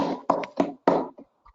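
Students clapping in a classroom, a few sharp separated claps in an uneven burst that trails off into quiet.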